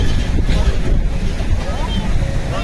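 On the Kwai River log flume ride at PowerPark, a loud, close rush of splashing water and wind buffeting the microphone roars continuously throughout.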